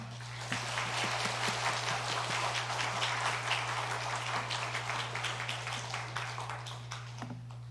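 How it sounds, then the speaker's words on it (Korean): A church congregation at a Sunday afternoon praise service claps to welcome the speakers. The applause is dense and fairly faint, holding steady for several seconds over a constant low electrical hum with no talking. "자 나오실 때 한번 크게 한번 환영의 박수를 하겠습니다"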